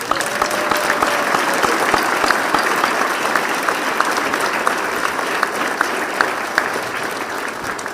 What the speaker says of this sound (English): If you can join me for a round of applause for that, please.